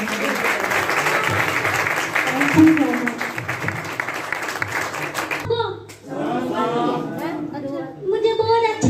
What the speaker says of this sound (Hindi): एक बार और तालियां बजाएंगे।